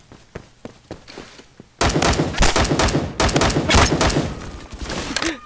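Rapid gunfire from a gun in Roblox Phantom Forces, with a few scattered shots and then a dense, loud burst of continuous firing that lasts several seconds.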